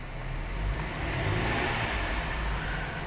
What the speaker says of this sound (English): Keep an eye on the tachometer. I'm going to rev the engine.